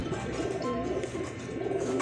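Racing pigeons cooing at close range, a low, throaty, repeated coo that runs continuously over the whole stretch, with no voices over it.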